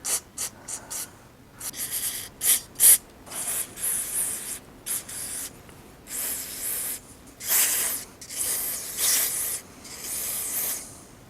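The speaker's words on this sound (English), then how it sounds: "when you spray in stuff like this, it's going to shoot out of unknown places" Cleaner sprayed from an aerosol can onto parts of a Husqvarna lawn mower, heard as a series of close, bright hissing bursts of varying length, some short puffs and some longer blasts, separated by quiet pauses.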